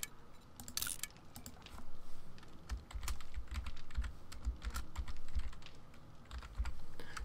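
Fast, quiet clicking of a computer keyboard being typed on in irregular bursts during a session of 7 Days to Die, with no other sounds alongside.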